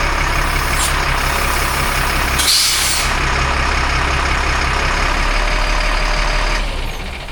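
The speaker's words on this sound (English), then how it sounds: "So we definitely have a giant air leak in there." Loud, continuous air hiss from a leak in an LMTV military truck's air system, steady and close over an idling engine, with a brief sharper burst partway through.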